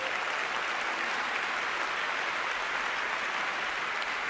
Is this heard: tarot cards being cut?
no